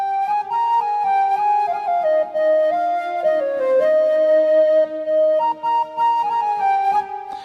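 A smooth keyboard synth lead layered with a flute sound glides breathily through sustained notes over a soft string pad, up close and unaccompanied by voices.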